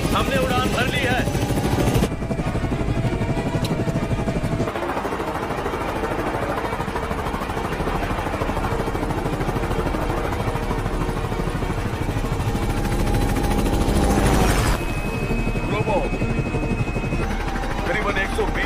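A helicopter flies steadily just after takeoff, its continuous engine and rotor roar filling the whole stretch at a loud, even level while voices talk over it.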